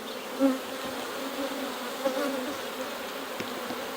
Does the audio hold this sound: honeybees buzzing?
yes